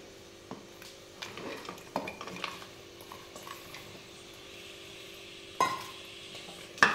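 Wheat and jaggery being stirred in a pan for kheer, faint scattered scrapes and clinks of a spoon against metal, with a couple of louder knocks near the end.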